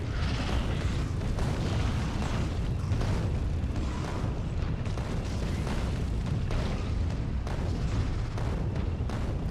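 Explosive tank rounds blast through trees in the video game Factorio, a steady, dense rumble of overlapping booms and pops at moderate loudness with no pauses.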